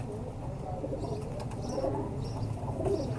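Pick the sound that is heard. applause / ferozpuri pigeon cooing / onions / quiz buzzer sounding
ferozpuri pigeon cooing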